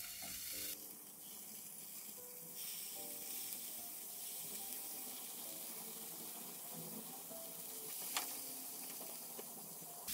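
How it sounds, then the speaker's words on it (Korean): Deodeok root sizzling in a pan on very low heat, a soft continuous crackling hiss held at a low level throughout, with a few faint clicks and no talking. "그래도 소리가 지글지글 나죠?"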